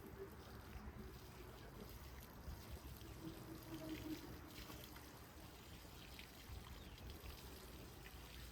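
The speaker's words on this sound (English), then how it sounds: "I'm gonna water it in." Water poured into a newly planted potted plant outdoors in a backyard, a soft, steady trickling and splashing over soil that runs faintly and evenly for several seconds, with no talking.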